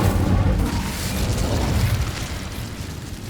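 Incendio fire spell cast in Hogwarts Legacy, a dense roaring burst of flame that stays loud and steady throughout, heavy in the low end with no voices over it.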